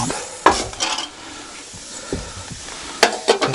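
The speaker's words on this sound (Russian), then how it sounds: "Котлеты жарятся." Cutlets frying in a pan on a stove in a rustic cabin, a steady soft sizzle with a few sharp clinks of a utensil stirring or turning them, close and unaccompanied by talk.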